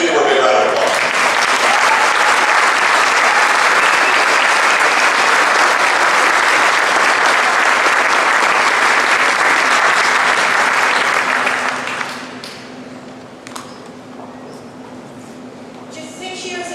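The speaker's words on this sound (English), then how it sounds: "Please give her a big round of applause." Crowd applause at a Tax Day tea party rally in Cincinnati, loud and sustained for about twelve seconds, then cutting off abruptly into a quiet room.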